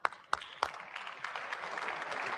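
Applause in the chamber at the State of the Union as the acting dean of the Diplomatic Corps enters: a few loud, separate claps at first, then a broader, steadily swelling round of clapping.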